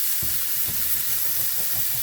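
Steak and onion sizzling in a pot while being stirred together, a steady close frying hiss with soft scraping and bubbling underneath.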